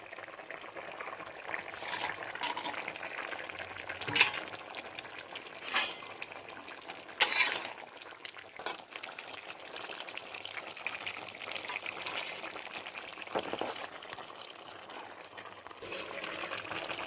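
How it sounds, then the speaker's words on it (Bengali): Katla fish curry (macher jhol) bubbles quietly in a pot, a soft continuous simmer with a few brief splashes and clatters as fish pieces are poured in. "তরকারিটা ফুটে গেছে, এবার মাছগুলো ঢেলে নেব।"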